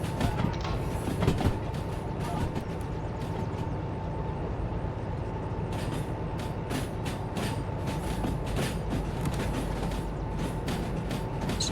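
A locomotive runs steadily while hauling cars out toward a machine factory, a continuous rumbling drone with a sustained tonal hum and faint rail clatter throughout, moderately close and without talk.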